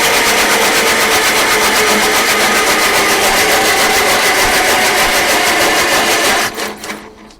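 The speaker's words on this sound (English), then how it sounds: "I'll crank it again here" A Bantam T35 engine with a slightly weak battery cranks on its starter in a loud, steady, rhythmic churn for about six seconds, then cuts off abruptly and falls quiet.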